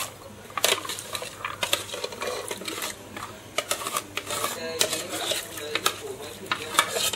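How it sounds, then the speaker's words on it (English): Pumpkin pieces dropped into a boiling pot of Thai massaman yellow curry, with a busy run of clattering, stirring and bubbling knocks, close by, over steady kitchen background. "Okay, in goes the pumpkin."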